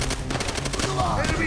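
Rapid, loud machine gun fire in Call of Duty World at War, a tight stream of evenly spaced shots close by, with faint voices underneath.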